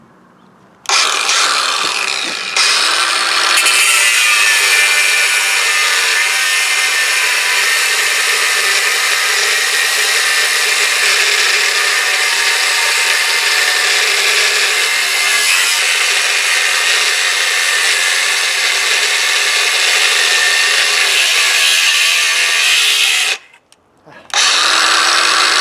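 A Ryobi battery-powered tool cuts wood with a loud, steady high-pitched whine for about twenty seconds, starting and stopping abruptly, close by and alone.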